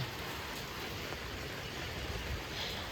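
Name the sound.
rain falling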